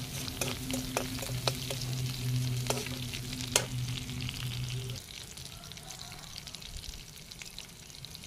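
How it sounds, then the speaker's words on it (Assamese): Garlic fries in hot oil until reddish, a bright crackling sizzle with sharp spits and pops, a low steady hum under the first half, then a quieter simmering fizz. "এতিয়া এইখিনি নহৰুখিনি ৰঙচুৱা হোৱালৈকে অকণমান ভাজি ল'ম।"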